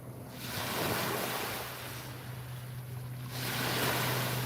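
Steady ocean surf rolls in broad, hissing swells, rising, easing and then rising again over a continuous low rumble, like wind against the microphone. No one speaks.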